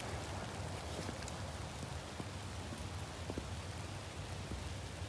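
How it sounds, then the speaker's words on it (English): Steady rain hisses continuously, with faint scattered drip taps across the whole stretch and no voices. "it is really raining."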